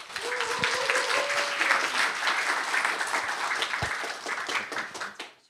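Sustained audience applause welcomes a participant to a Korean speaking contest for foreign students, a dense, steady clatter of many hands that holds for several seconds before tapering off at the end.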